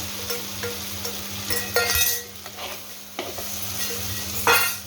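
Mutton tipped into spiced masala in an Odia clay pot, or mati handi, sizzles loudly and gets stirred, with scraping swishes and occasional clinks over a steady low hum.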